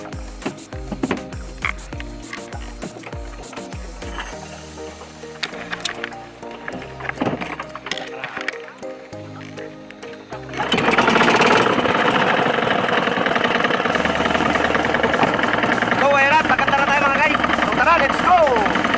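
A small fishing boat's engine on a night trip after bigeye fish catches after a stretch of clanking and knocking, then runs as a loud, steady, gritty drone. Voices talk throughout.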